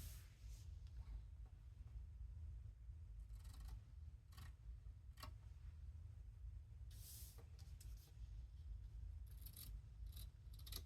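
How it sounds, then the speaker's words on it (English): Scissors snip the paper corners of a handmade journal cover, a few faint, scattered crisp cuts and rustles over a steady low background hum. "and snip our corners again"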